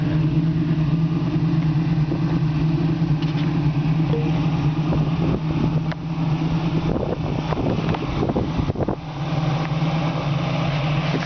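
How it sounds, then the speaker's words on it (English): A 1967 Ford Mustang with 2-inch pipes and dual Flowmaster exhaust revs loudly, a deep rumble with repeated throttle blips over a steady idle, close up. "Got 2-inch pipes and dual Flowmaster exhaust."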